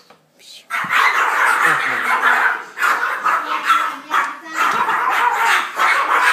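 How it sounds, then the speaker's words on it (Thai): A dog barks on a farm, close and loud, in a run of repeated barks and yips that come in uneven bursts, nearly continuous across several seconds. "จะเห่านิดนึง"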